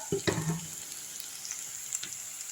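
Onions sautéing in a pan for an oyster mushroom gravy, a soft continuous sizzle with a couple of clattering stirs near the start, close but quiet and without speech.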